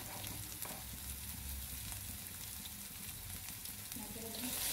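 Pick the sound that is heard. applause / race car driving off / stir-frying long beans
stir-frying long beans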